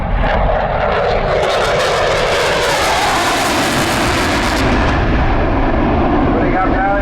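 A Eurofighter Typhoon jet flies a high-speed display at the Southport airshow, its engine roar loud and continuous throughout, swelling and shifting as it passes with no break.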